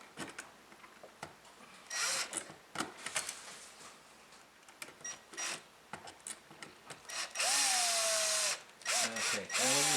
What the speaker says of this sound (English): when you're screwing it in, you make sure that those screws do not touch the wires as well